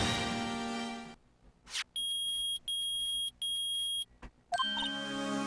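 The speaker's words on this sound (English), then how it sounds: "it's beeping. The metal detector found something." Repeated electronic beeping from a metal detector in the Phoenix Wright video game, three steady high-pitched beeps in a row, with game music before and after.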